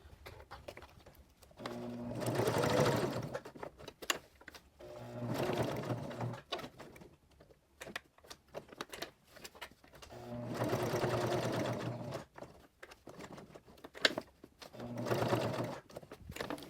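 Sewing machine stitching Velcro onto a magnetic wrist cuff, running in four sustained whirring bursts separated by short pauses with small clicks and handling noises, close and fairly loud, no voice present.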